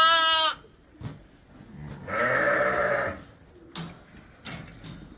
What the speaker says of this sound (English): So Lynn's gonna let her lambs loose this morning.